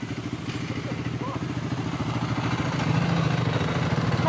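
A dirt bike engine runs with a rapid, rhythmic low putter that grows slightly louder toward the end, with people talking over it.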